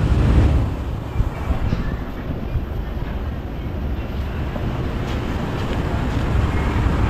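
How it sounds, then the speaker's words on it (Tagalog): A steady, loud rush of blowing air from a 2011 Ford Expedition's AC blower fan at full speed fills the whole stretch, a constant broadband whoosh, with no talking. "Nakatodo yung blower."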